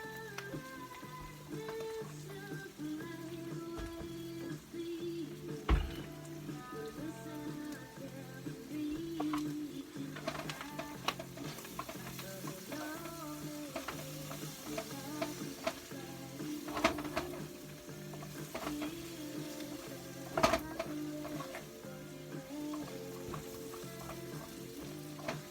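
Home fries and sausage frying in a little oil, a quiet steady sizzle with intermittent scraping and tapping as a utensil stirs the pan, close but low in level over a faint hum.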